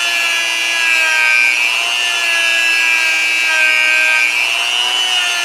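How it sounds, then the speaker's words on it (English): A felt polishing wheel loaded with white compound runs against a bearing surface, making a steady high whine with a rubbing hiss that rises and falls slightly as pressure shifts, loud and continuous with no voices. "felt polishing wheel with some white compound, and we're going to polish up that surface"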